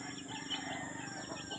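Faint, brief rooster or chicken calls, a couple of short squawking cries at a distance over a low background murmur.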